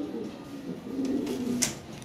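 Lahori pigeons coo softly nearby in a low, rolling murmur, a brief close call over quiet room tone, ending with a short sharp rustle or knock.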